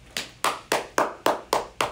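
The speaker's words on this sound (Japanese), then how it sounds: "一番でかい拍手した人が勝ち。" Seven sharp hand claps in a steady, even rhythm, loud and close, with no talking.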